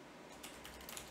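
Keys on a computer keyboard tapped in a short, light burst of a few quick clicks, faint and close, with no talking.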